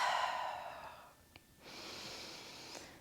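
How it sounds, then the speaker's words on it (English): A slow, deep breath drawn in and released close to the mic, a long airy inhale followed by a pause and a sustained exhale, with no talking. "So just take a deep breath."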